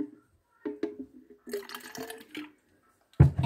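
Water is poured into a glass at home in short, splashy bursts separated by silences, close and fairly loud, with a stronger gush at the very end.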